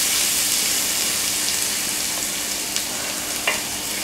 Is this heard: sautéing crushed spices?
yes